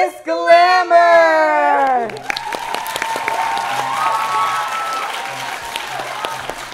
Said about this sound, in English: let's give a big round of applause to welcome Gladys Glamour